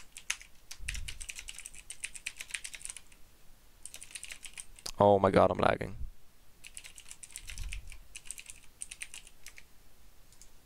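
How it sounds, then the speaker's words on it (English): Rapid clicking on a computer keyboard during an online Magic card game broadcast, steady close bursts of keystrokes with brief pauses, interrupted once by a short spoken exclamation. "Yes, I was typing the exact same thing."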